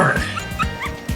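Quick, high yips from a dog in the video game Muv-Luv Extra come in a few short bursts over game music, with a voice overlapping at the start.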